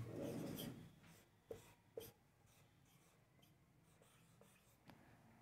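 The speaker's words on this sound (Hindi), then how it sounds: "तो आपको पहले लिख लेना है शुभम," Pen or marker strokes scratch across a board during a Hindi classroom lesson on alphabet coding, a few short distinct scrapes and longer rubbing strokes, faint and close in a quiet room.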